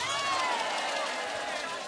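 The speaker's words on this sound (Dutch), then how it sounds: "Een heel groot applaus." A large carnival crowd at the Gulpen Vastelaovend finale applauds and cheers in a loud, unbroken roar, with a voice speaking over the noise.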